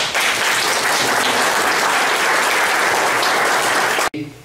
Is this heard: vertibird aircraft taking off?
no